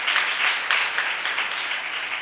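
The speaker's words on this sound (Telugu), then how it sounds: "చప్పట్లు కొడుతూ దేవునికి మహిమ తీసుకురావచ్చు కదా." Congregation at a monthly worship gathering clapping hands in praise, a dense, steady wash of many hands at close range with a few louder surges and no voices.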